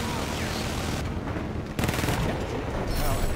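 Dense automatic gunfire and explosions from a Battlefield 4 multiplayer match on Zavod 311 rattle continuously at close range, with brief shifts in intensity and a heavy burst partway through.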